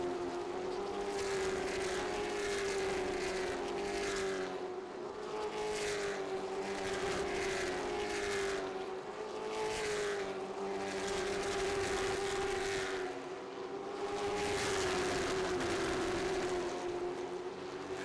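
Race car engines at North Wilkesboro Speedway during a CARS Tour finale make a loud, continuous drone whose pitch swells and dips as drivers get on and off the throttle, with no talk.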